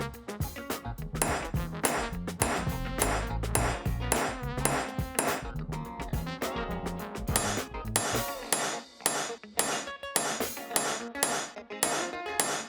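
A transfer punch is struck into a metal tube drilled through a drill guide while building a PrintNC CNC router, giving sharp metallic hammer taps in rapid irregular bursts, loud and close, with ringing clinks and brief pauses.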